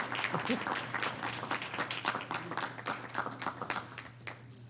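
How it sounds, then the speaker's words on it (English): Applause fills a school district board business meeting as a seated audience claps steadily and densely for the full stretch at moderate volume, with a low electrical hum underneath. "Well, hold your applause."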